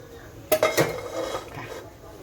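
A metal cooking pot for boiling mung beans handled and set down in a home kitchen, giving a few close, sharp clanks in quick succession followed by a softer scraping settle.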